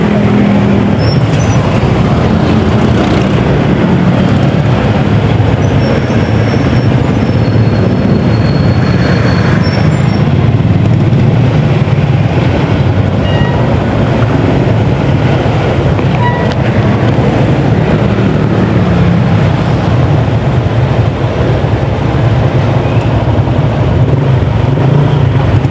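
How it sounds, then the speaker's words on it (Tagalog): Heavy road traffic near a silo, heard from within a vehicle: a loud, continuous rumble of engines and rolling wheels with occasional faint squeals and tonal whines, steady throughout with no talk. "Traffic ngayon."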